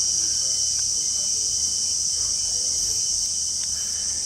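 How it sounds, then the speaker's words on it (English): Dense, continuous high-pitched insect chirring in the jungle of Gunung Mulu National Park, Borneo, a steady loud drone from the trees overhead, with faint soft footsteps and rustles beneath. "Listen to the sound of the insects."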